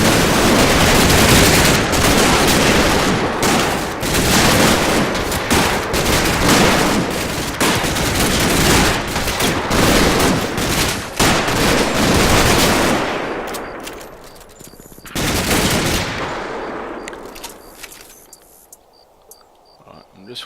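Sustained automatic weapons fire and explosions in the World War II tactical game Combat Mission Red Thunder, dense and loud for most of the stretch, then thinning to a sparse burst and scattered distant shots, with someone talking over it.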